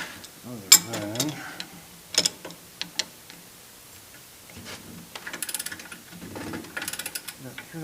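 A press tool in a vise forces a bearing into a Hyundai Accent captive rotor, giving sharp metallic clicks, creaks and ratcheting ticks in irregular bursts at close range, with a voice occasionally speaking.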